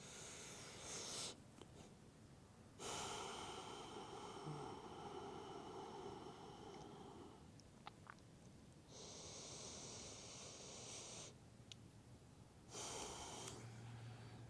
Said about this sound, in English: Really noticing the exhale, letting the exhale be extra long.